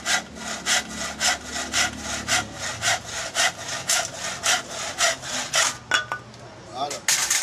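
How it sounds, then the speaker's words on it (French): A sharp hand saw cuts through hard wood for making a balafon, with steady, rhythmic back-and-forth strokes close by, about a dozen and a half in a row before a brief pause and a few final strokes. "Là, la scie intervient. Et c'est un bois dur, il faut que la scie soit vraiment tranchante."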